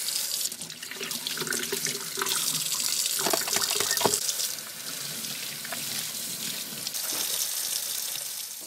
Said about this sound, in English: AMAP washes hands.